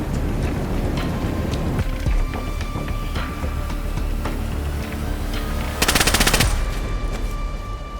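Rapid automatic M4 rifle fire in an online shooter game, a dense sustained burst over constant loud game ambience, with a sharper, louder volley near the end.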